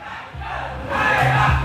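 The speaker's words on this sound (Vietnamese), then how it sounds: "Một tràng vỗ tay thật lớn, thật nồng nhiệt để chào đón" A large crowd at a live music show in Vietnam erupts in loud cheering and shouting, swelling louder partway through, with a broad roar of many voices and clapping.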